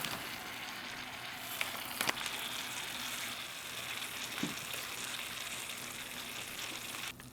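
A steady, soft hiss and sizzle of beef stew steaming in a pouch on a flameless ration heater, with a few faint crackles and taps, close by and continuous.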